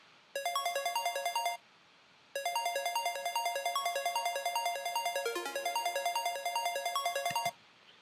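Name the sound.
synthesizer square wave patch without pluck envelope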